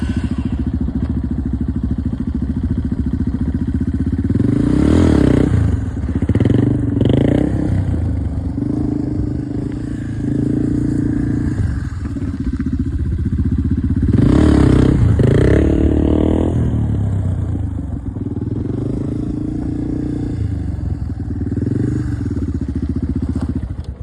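A dirt bike engine revs continuously through a circle wheelie on loose ground, with repeated throttle surges swelling louder around the middle and again later, plus occasional clatter and scraping, close to the microphone.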